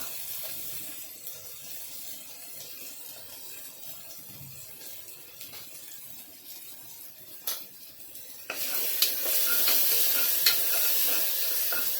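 Chicken masala with turmeric roasts in a pan with a soft, steady sizzle and occasional stirring scrapes. The frying grows noticeably louder and brighter for the last few seconds.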